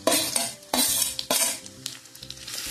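A spoon stirring capsicum, green chillies and grated carrot in a sizzling pan, with three loud scraping strokes over a steady fry hiss, close and without talk.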